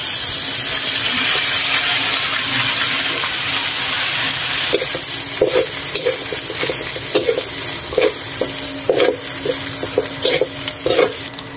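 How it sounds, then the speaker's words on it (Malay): Loud continuous sizzling of rice frying in a wok with water spinach and shrimp paste, with rhythmic scraping stirs growing more pronounced in the second half. "jom kita goreng nasi"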